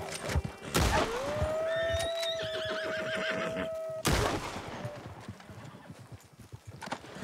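A horse in the video game Red Dead Redemption 2 whinnies loudly with a long, wavering call, followed by a second burst and scattered clattering noise, with no talking.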